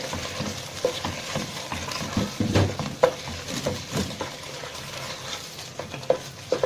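Washed, drained rice tipped into a pepper and eggplant stuffing mixture and stirred in a pot, with a steady sizzle of oil under close, irregular scraping and stirring clinks throughout.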